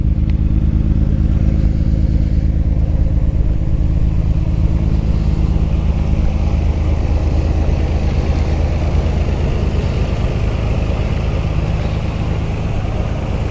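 A modified 1991 Nissan Skyline R32 GTR with aftermarket exhaust and intercooler idles close by, a loud, steady low rumble with a slightly lumpy, clattering texture throughout.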